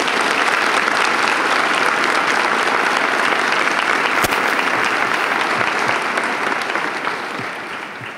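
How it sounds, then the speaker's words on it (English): A large audience claps steadily at a university journalism college's spring 2015 convocation, a dense, sustained round of applause that fills the hall and eases off slightly near the end. "I hope my classmates will join me in a round of applause to thank all of our family and friends"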